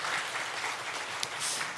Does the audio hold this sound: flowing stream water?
no